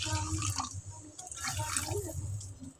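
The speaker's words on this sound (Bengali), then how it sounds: "এবারে দিয়ে দিচ্ছি জল" Water splashes and gurgles into a pan of sautéed turmeric for a lemony fish curry, a close, continuous pour lasting a few seconds.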